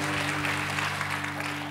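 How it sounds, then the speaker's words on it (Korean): A church congregation applauds together during a Remnant Day worship service, a dense, steady wash of clapping that fills the whole moment over a low sustained musical hum. "하나님께 영광의 박수 올려드리고 납니다."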